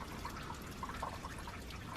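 Meltwater trickling behind the ice of a frozen waterfall in a wilderness area: a faint, steady liquid babble with small gurgling drips over a constant low rush.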